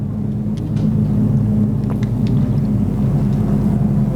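Street stock race cars run laps on a track during a feature race, making a continuous low engine rumble and drone with no break.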